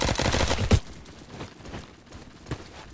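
Gunfire in the shooter game Bad Business: a loud rapid burst of automatic shots in the first moment, followed by sparse, fainter single shots in the background, with no speech.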